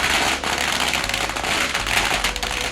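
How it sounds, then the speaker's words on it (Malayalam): A string of firecrackers goes off at a Thai temple offering in Phuket, set off inside a cylindrical enclosure, a dense, loud, continuous crackling rattle of rapid bangs throughout. "നമ്മുടെ നാട്ടിൽ കതിനയാണെങ്കിൽ ഇവിടെ മാലപ്പടക്കമാണ് പൊട്ടുന്നത്."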